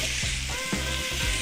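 Chicken stir fry for General Tso's chicken sizzles steadily in a hot pan, a close, continuous crackling hiss with a few brief stirring shifts.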